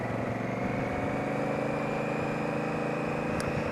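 A stock Honda Africa Twin motorcycle exhaust runs at a steady, even drone while riding on a road, continuous and close up, with no speech.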